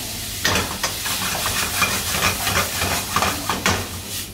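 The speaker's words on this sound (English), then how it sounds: "Fry the meat." Meat frying in butter in a pan in an Indian restaurant kitchen, steady sizzling hiss with repeated scraping stirs and clanks of a utensil against the pan, no talk.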